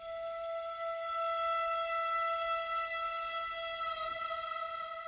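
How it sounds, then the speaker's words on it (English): A sustained flute sample from a Cashmere pack, drenched in heavy long-decay reverb, holds one steady bright tone with rich overtones for several seconds before fading slightly at the end, with no voices. "it's this flute, which I think I just added a ton of reverb to it"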